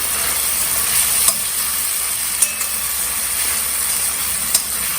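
Multi-grain khichdi with chillies being stirred in a pot over a low flame: a steady hiss of cooking with a few faint utensil knocks spaced seconds apart, fairly loud, no voices.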